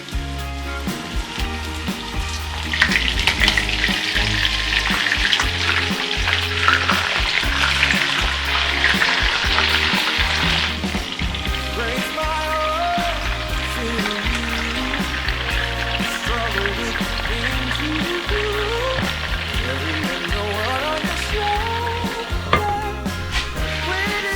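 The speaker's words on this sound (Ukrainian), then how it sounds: "котлети посмажилися" Cutlets frying in a pan give a steady, close sizzle and crackle that runs the whole time, briefly louder and hissier early on, with clinks from the pan and no talk.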